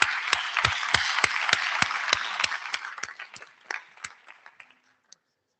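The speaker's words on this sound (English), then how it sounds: "there'll be a lot of kind of clapping throughout kind of this evening" Audience at an IETF plenary applauding, a dense wash of clapping with sharp individual claps standing out, gradually thinning and fading to a few scattered claps before silence.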